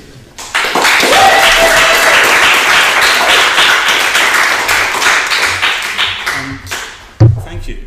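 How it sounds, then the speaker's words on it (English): Sustained applause from a room of listeners after a poetry reading, dense clapping that swells in and runs for several seconds before trailing off, with a louder knock near the end. "Just a room full of clapping people."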